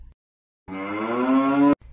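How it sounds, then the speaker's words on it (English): One long, steady moo from a cow in a children's farm-themed learning game, loud and close, heard alone after a short silence. "Cow."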